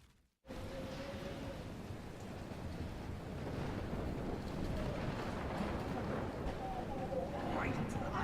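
Storm in the Life is Strange video game, with a dense roar of wind, rain and crashing surf that swells in after a brief silence and grows steadily louder and fuller, a voice briefly heard amid the noise.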